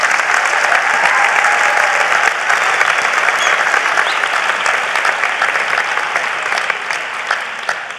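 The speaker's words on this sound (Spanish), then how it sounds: "dale un aplauso fuerte al Señor" Loud, dense applause from an audience at a Spanish-language design talk event, steady and close, fading slightly toward the end with no speech on top.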